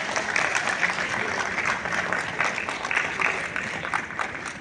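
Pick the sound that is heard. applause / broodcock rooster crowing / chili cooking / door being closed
applause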